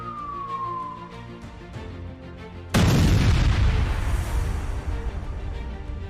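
Sound effect of a nuclear missile detonation: a falling whistle-like tone over a low hum, then a sudden massive boom that rolls into a long, loud, rumbling roar to the end.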